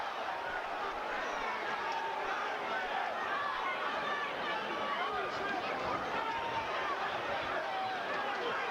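A boxing crowd boos, making a dense, steady wall of massed voices that stays even in loudness, heard from the arena at a moderate distance.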